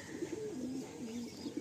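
Pigeon cooing softly at close range, a few low throaty murmuring coos in quick succession against faint background noise, with no talking.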